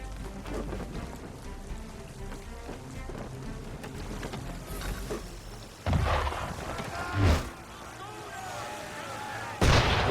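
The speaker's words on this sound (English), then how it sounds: "Why is he shooting at us?" Cannon fire aimed at the player's ship in Assassin's Creed III, heard as a few loud booming blasts amid rain and ambient noise, with people talking around them.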